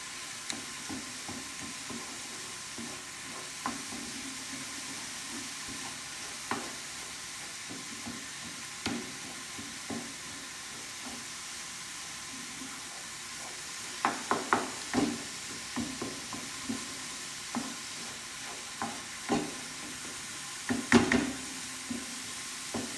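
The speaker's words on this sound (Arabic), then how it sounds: "هكا نبقى نحرك حتى تبدا تنشف من الماء اللي فيها" Mashed avocado pulp is stirred in a pan as its water cooks off while making homemade avocado oil: a soft continuous sizzle and hiss with light, irregular scraping strokes of a spoon against the pan. The scraping grows busier and louder toward the end.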